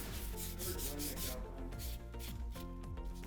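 Concrete overlay material is rubbed by hand into a Formica kitchen countertop, giving a steady, close, continuous scraping rub with rhythmic strokes and no speech.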